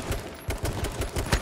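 Gunfire in H1Z1 Just Survive, a rapid string of close, punchy shots in an even rhythm lasting just over a second.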